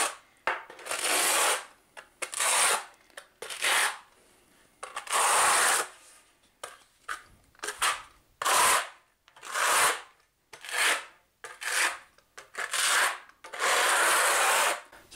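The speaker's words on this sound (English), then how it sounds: "you want to use the flat edge of your trowel to basically, kind of like what I did on the wall, just basically coat the whole entire surface" A trowel's flat edge spreads and scrapes tile adhesive across the back of a shower wall tile, giving repeated rasping strokes in uneven bursts with short pauses, close and fairly loud, no talk.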